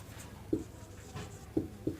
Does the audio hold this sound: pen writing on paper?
yes